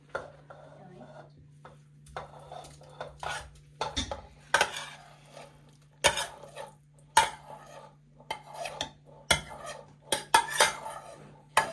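A spoon clatters and scrapes against a pot as food is stirred during Ukrainian home cooking in a village kitchen, giving irregular clinks and knocks of moderate loudness with a steady low hum underneath and brief faint voices.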